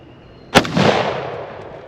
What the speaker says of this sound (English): So let me shoot this target real quick here.